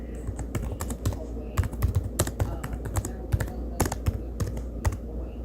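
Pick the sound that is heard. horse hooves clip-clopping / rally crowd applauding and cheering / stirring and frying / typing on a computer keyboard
typing on a computer keyboard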